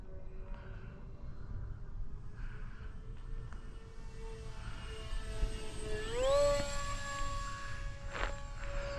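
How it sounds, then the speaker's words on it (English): A small RC model airplane with high-pole motors flies steadily with a sustained whine that rises in pitch near the end as the throttle opens, moderately close and without speech. "Yeah, that's a fun little plane to fly."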